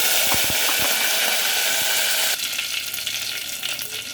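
A bay leaf, a sprig of curry leaves and a little cumin crackle in hot oil, making a loud, dense sizzle with a few sharp pops early on; the sizzle drops slightly and turns more even about halfway through.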